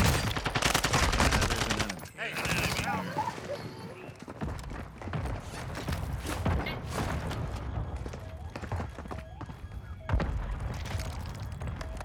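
Rapid bursts of automatic gunfire and single shots crack through a Call of Duty DMZ firefight, loud and near, broken by short pauses, with players talking over the shooting.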